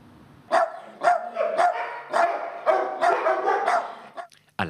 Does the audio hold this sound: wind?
no